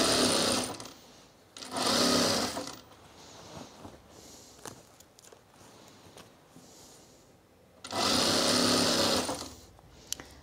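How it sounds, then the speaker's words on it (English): A sewing machine stitches an ironing board cover in two loud whirring runs, one early and one near the end, with quieter handling and rustling in between. "you could overlock this edge and then just straight stitch the elastic on or zigzag it"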